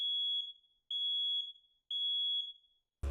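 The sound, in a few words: smoke alarm beeping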